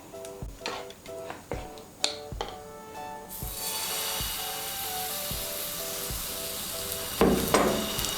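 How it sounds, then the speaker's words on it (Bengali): Ladlefuls of gola ruti batter hit hot white oil and burst into a bright, steady sizzle that carries on to the end, after a few sharp utensil taps and knocks. "এর মধ্যে আমি 1 হাতা করে ব্যাটার দিয়ে দেব,"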